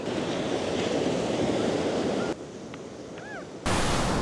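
Ocean waves wash against the shore of Madeira in a loud, continuous rushing surf. The sound cuts to a quieter stretch with faint chirps, then returns abruptly to full surf noise.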